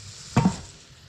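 Potatoes in olive oil in a hot cast iron pan at a camp, one short sizzling stir-scrape, close and brief, over a low background hiss.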